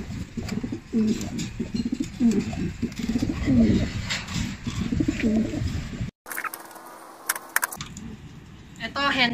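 A racing pigeon hen of Emil Stickelbout line, mother of a tenth-place bird, coos in repeated low throaty phrases at close range in a loft, with voices talking underneath and a brief clatter near the end.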